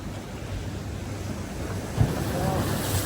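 Sea waves wash in steadily with a broad rushing sound, buffeted by wind noise, a soft surge rising near the end.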